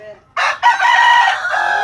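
A hybrid rooster crows loudly and close by, one full cock-a-doodle-doo call lasting over a second after a short cluck.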